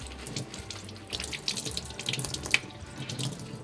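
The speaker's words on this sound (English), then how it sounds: "I'm gonna get it all completely wet over in the faucet" Water running steadily from a kitchen faucet as coffee filters are soaked under it, a continuous close splashing hiss with small spatters and drips throughout.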